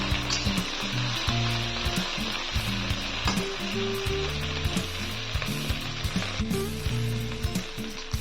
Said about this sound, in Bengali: তো এখন ভেন্ডিগুলো আলুর সঙ্গে ভেজে নেব।